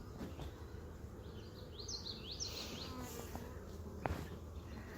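Honeybees, drones and workers, buzz in and around a hive, a soft continuous hum at close range with a few brief chirps and a small knock over faint background noise.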